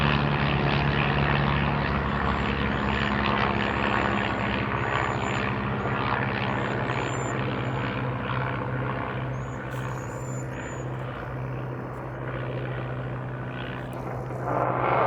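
Propeller-driven fixed-wing airplanes drone overhead as a steady, fairly loud engine hum that holds for the whole stretch, with no talking over it.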